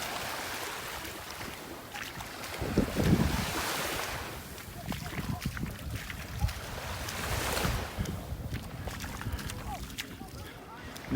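Ocean surf and gusting wind at Delnor Wiggins beach in Naples, Florida: waves wash in a steady broad hiss while wind buffets the microphone in uneven rushes.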